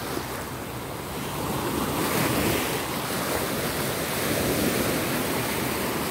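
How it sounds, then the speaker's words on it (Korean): Ocean waves breaking on the shore at Daecheon Beach, a continuous broad wash of surf that swells and recedes, with wind noise on the microphone and no talking. "저쪽은 파도가 안 치는데 여기만 친다"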